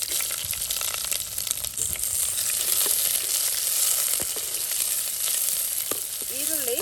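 Curry leaves and onion sizzle and fry in a pan for a Mangalorean fish meal, a steady close hiss with occasional stirring scrapes throughout.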